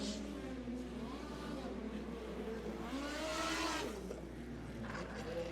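Midget race cars roar around a dirt speedway in a close finish, engines whining and rising in pitch as they pass, under the excited voice of an announcer.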